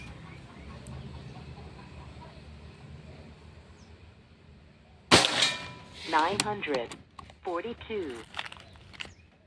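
A Bocap Pajero Gun Gen 6 air rifle fires its first shot at an accuracy test in Banten, one sharp crack after a quiet stretch, then someone talks over a few clattering handling noises.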